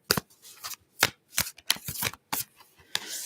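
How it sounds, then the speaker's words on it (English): Tarot cards being shuffled by hand: a run of about seven crisp riffling bursts with short pauses between them, close and fairly quiet, with no talking. "Let's shuffle them a lot here first."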